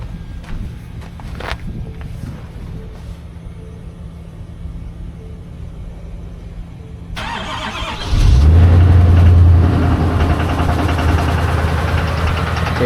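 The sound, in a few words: truck engine running while cold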